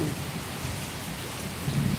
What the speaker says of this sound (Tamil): இப்போ நம்ம சென்னையில் எல்லாம் ஃபுல்லாக மழை பெஞ்சிக்கிட்டே இருக்கு நல்ல மழை